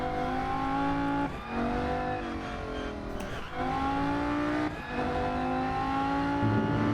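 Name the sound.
car engine driving in Rennsport racing video game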